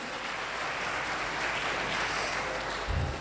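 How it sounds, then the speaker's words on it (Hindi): An audience at an indoor business training seminar gives sustained applause, a steady wash of clapping that holds for several seconds and ends with a soft thump. "एक जोरदार ताली आप सबके लिए"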